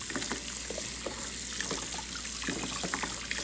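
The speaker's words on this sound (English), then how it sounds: "so I'm going to turn my faucet on and clean all that out." Tap water from a kitchen faucet runs steadily while rinsing gunk out of a dishwasher filter, a continuous splashing trickle with scattered drips and clinks, close and moderately loud with no talk.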